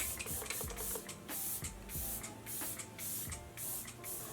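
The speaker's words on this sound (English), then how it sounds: "I'm actually going to go in with a little bit of this Glow Recipe Setting Mist" Several short hissing bursts from a Glow Recipe setting mist spray bottle, pumped in a quick irregular series over a face of freshly applied makeup, close and fairly quiet with faint handling clicks between.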